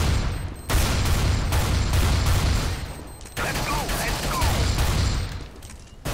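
Gunfire in the video game Counter-Strike: Global Offensive: loud rapid bursts and sustained volleys of automatic fire that stop and start again several times in close succession.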